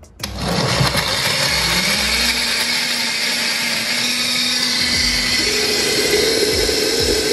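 A blender whirs steadily at high speed, a loud continuous motor drone with a slight rise in pitch partway through.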